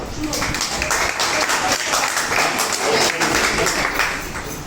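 Audience clapping at an education event, a dense burst of applause, loud and close, blended with voices and background chatter throughout.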